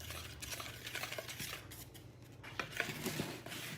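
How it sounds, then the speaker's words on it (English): A whisk clinks and scrapes around a bowl, stirring cocoa with other dry ingredients in quick, light, irregular taps, quiet and close. "I'm just going to whisk these together and then set this aside"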